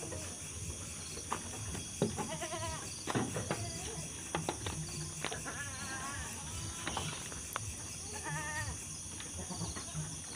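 Goat bleating repeatedly as it is led out of its pen at a farm before being sold, several wavering calls spread across the clip over steady insect chirring and faint background noise.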